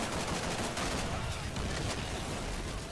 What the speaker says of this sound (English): Gee, that's a big machine gun.